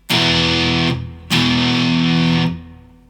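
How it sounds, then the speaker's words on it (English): An electric guitar plays a distorted open chord with the third left out, struck twice. Each chord rings thick and loud, then cuts off sharply. "When I add the distortion and I play that"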